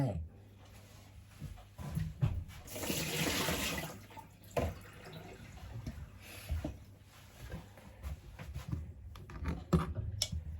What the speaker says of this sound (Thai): ล้างมะนาวให้สะอาดนะคะ